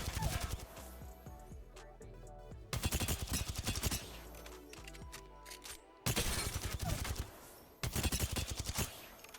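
Hipfire gunshots from a weapon with a laser sight in the video game Apex Legends, loud rapid automatic bursts in several strings separated by short pauses, each shot sharp and close.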